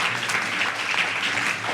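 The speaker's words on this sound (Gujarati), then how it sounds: "આપણા અધ્યક્ષ મહોદયનું સ્વાગત કરી આપણે સૌ તાળીઓ" Applause from a gathering at a school science fair event welcoming a chief guest, a steady, moderately loud patter of many hands clapping throughout.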